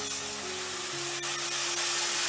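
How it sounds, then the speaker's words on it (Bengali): Water poured into a hot pan of frying raw mango sets off a loud, steady sizzling hiss with a faint tonal hum underneath, close and continuous throughout. "আমি দিয়ে দিলাম এই মগটা 2 মগ জল"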